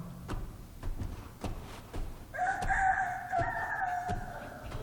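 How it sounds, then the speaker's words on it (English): A rooster crows once in a long, strained call, somewhat distant, over a rhythmic thumping background. "A rooster crowing on Mars?"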